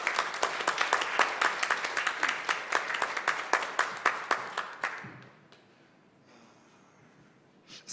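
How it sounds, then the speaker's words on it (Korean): A congregation at a Sunday church service applauds in dense, steady clapping that lasts about five seconds, then tapers off into quiet room sound. "지금까지 인도해 주신 우리 하나님 앞에 감사와 또 축복의 박수 해주시기 바랍니다."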